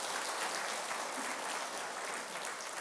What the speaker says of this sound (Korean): 우리 박수 한번 해야 돼요